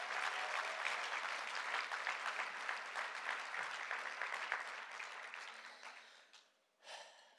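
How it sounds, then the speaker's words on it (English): Applause from the audience at an annual community center meeting, strong steady clapping that thins and fades out after about six seconds, followed by a brief stray noise. "let's have a round of applause for Sarah"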